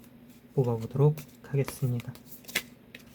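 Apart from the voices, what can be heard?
drawing tarot cards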